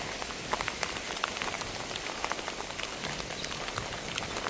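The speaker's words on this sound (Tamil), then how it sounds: "பெரிய மழை தான் பெய்யுது" Heavy rain falls in Jaffna, a steady close patter of drops striking surfaces with dense crackling splashes throughout, and no one speaking.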